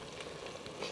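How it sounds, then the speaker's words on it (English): Onions frying and caramelizing in a soup pot for French onion soup, a brief steady sizzle close up with no voices. "So we just want the remaining liquid to evaporate and caramelize the onions a little bit more."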